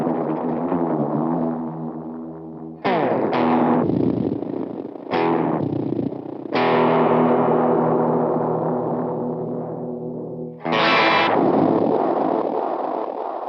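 A Tokai Talbo guitar played through an effects unit on an odd, heavily distorted setting with reverb switched off, sounding as loud, buzzing sustained chords with sharp, bright attacks re-struck several times, thick modulated tones ringing out between hits.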